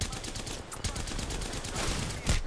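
Rapid bursts of automatic gunfire from the Apex Legends video game rattle through a short stretch, dense overlapping shots with a few sharper cracks, fairly quiet overall.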